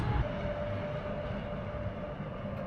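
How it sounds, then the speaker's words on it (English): Steady rumble of a funicular train on a steep mountain railway in Spain, a continuous low roar with a faint whine running underneath, moderately distant and without voices. "this is the train that we're going to be catching in a minute."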